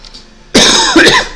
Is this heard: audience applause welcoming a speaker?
no